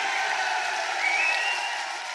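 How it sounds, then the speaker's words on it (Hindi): A crowd at a political rally applauding, a dense continuous wash of clapping heard from a distance, holding steady before easing slightly at the end. "ताली बजाइए, और जोर से ताली बजाइए"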